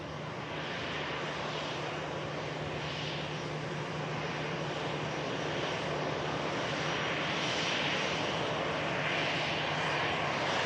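An ITA airliner flying in from Milan for EasyJet at Manchester Airport, its jet engines giving a steady, loud roar that swells slightly and holds throughout, heard from a distance with no talk.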